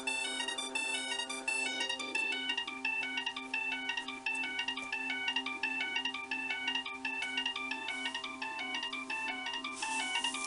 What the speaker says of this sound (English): Project 100 has 4 sequences that you can program, so on 3 is that sequence. And we're gonna play it.